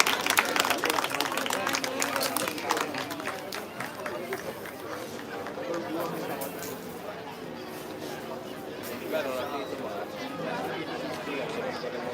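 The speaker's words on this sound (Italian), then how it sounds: "Un applauso a questi bravissimi e giovanissimi pugili." An audience at an Olympic-style youth boxing bout in Noventa di Piave claps and cheers after the third and final round, a burst of applause that fades into crowd chatter with an announcer talking over it.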